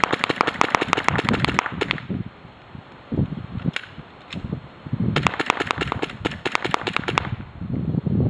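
Pistol shots fired during draw-and-fire practice, sharp cracks in quick bursts of several rounds with short pauses between groups, loud and close.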